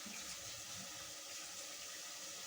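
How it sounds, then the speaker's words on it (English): Water running steadily into a cooking pot to make Kenyan ugali, a continuous hissing pour from a tap close by, with no talking. "we're going to add some water for making ugali"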